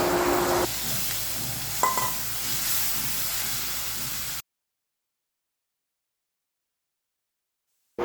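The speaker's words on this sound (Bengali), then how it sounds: "এবার হচ্ছে যে মশলাটা ভালোভাবে কষিয়ে নিব।" Spice paste sautéed in a pan, with a close, steady sizzle and stirring scrapes for about four seconds before silence.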